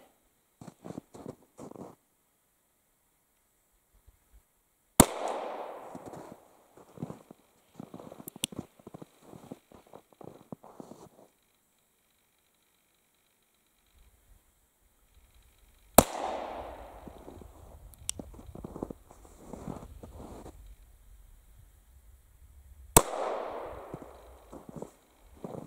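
Early Smith & Wesson tip-up revolver fired outdoors, three sharp, loud single shots spaced several seconds apart, each followed by a brief rumbling echo, with quiet handling clicks and rustles between them.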